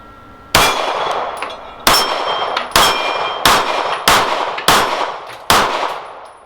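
Seven sharp pistol shots from a Dan Wesson DWX Compact, each followed by a bright metallic clang as the round strikes a steel plate target, spaced roughly a second apart with ringing decay between hits.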